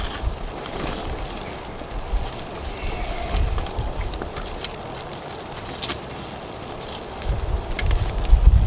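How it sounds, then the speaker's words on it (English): Steady gusting wind rushes and buffets outdoors in wet conditions, a broad noisy roar with occasional rumbling bursts close to the microphone. "the wind is just blowing my material away"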